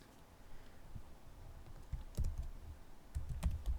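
A name being typed on a computer keyboard, quiet close clicks of keys in short bursts with brief pauses, a couple of louder clusters toward the end, no voices.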